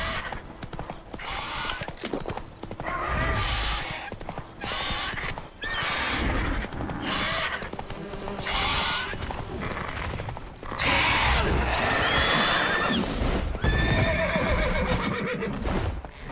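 Roach the horse gallops and neighs in The Witcher 3 amid combat, with loud, repeated whinnies over pounding hooves and clashing battle noise, close and busy throughout.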